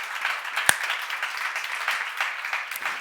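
An audience at a church seminar applauds, and the clapping stays steady and moderately loud for a few seconds, with one sharp louder clap near the start.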